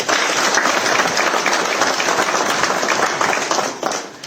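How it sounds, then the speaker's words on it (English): A conference audience at Rainbow Towers, Harare applauds its panelists, dense close clapping from a sizable crowd holding steady for about four seconds before tapering off. "We can do a round of applause for them."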